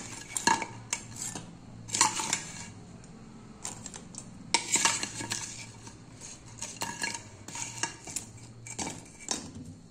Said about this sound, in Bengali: ভাজা পুলিগুলো এবার শিরার মধ্যে দিয়ে দিচ্ছি।